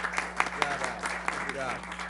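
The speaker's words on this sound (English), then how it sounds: "So if we could have a round of applause for Mr. Hidkovich" Audience applause at a planning board meeting, a thin scattering of hand claps over a steady hum, with a voice talking over it.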